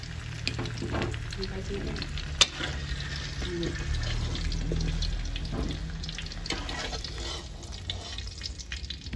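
Chicken pieces fry in a pan for kaldereta, a moderate continuous sizzle with a sharp clink from a utensil and faint low talk underneath.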